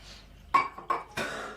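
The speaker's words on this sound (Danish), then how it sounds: "Nu skal jeg tage glas." Drinking glasses are picked up and clink together in three short, distinct knocks close by in a quiet room.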